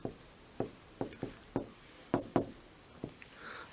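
A word being written by hand, heard as a series of short, scratchy pen strokes in an irregular rhythm, close and fairly quiet, with a brief longer scratch near the end and no talk.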